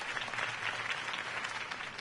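Steady crowd applause after a campaign speech in a Batman video game, a dense, even wash of clapping heard alone for about two seconds.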